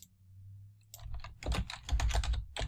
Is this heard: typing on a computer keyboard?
yes